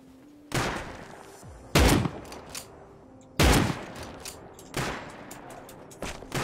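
Gunfire in the survival game Rust, several sharp, loud shots landing roughly a second or so apart, each with a short echoing tail against a quiet background.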